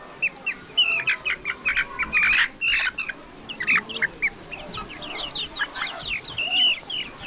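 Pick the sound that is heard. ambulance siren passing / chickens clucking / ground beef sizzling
chickens clucking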